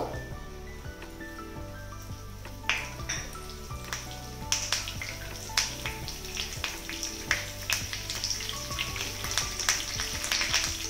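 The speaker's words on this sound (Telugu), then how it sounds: "ఇప్పుడు ఆయిల్ వేసుకొని తాలింపు పెట్టుకుందాం" Tempering seeds and curry leaves dropped into hot oil, sputtering and crackling with sharp pops that grow busier over a low steady hum.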